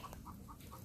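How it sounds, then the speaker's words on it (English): Chickens and roosters in a garden coop cluck in a short quick run of four faint, evenly spaced calls under light background noise. "The roosters are getting all worked up."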